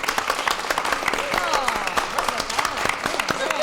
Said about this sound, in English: give a major round of applause to Kelly and the entire staff